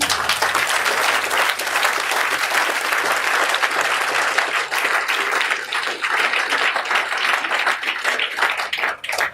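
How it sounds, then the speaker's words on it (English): Guests at a housewarming party applaud for Otto, a dense sustained round of clapping from a room full of people lasting about nine seconds, close and loud, then thinning slightly at the end. "I think Otto deserves an applause"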